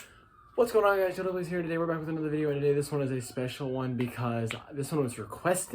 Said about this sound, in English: Apologies about the sirens.